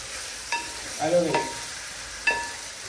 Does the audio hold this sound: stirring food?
yes